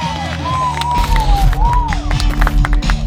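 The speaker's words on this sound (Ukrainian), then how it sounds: "оплесками дякують е, шаленим вболівальникам" A football team at a club's home base claps for cheering supporters during a charity match event, with crowd noise and cheers continuing loudly throughout, broken by scattered shouts and whoops.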